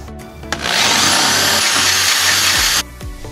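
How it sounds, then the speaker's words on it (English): Power drill boring bolt holes through the floor of a Jeep Wrangler for rock slider installation, one loud continuous whining burst of about two seconds at close range, with tool clatter before and after. "Now you have to drill the bolts on the bottom."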